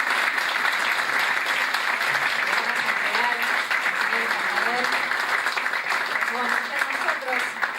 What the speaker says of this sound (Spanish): el artista Roberto Rodríguez, para que pida un fuertísimo aplauso.